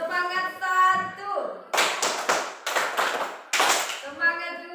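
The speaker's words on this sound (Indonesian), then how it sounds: "coba tepuk semangat dulu, berdiri." A primary school class in a religion lesson performs a rhythmic spirit clap while standing, chanting voices alternating with three loud, sharp bursts of group clapping, the children's voices returning between them.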